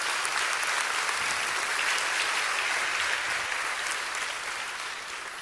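A church congregation applauds steadily and loudly for about five seconds, a dense wash of clapping that fades slightly toward the end.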